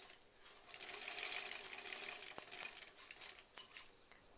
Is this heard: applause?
no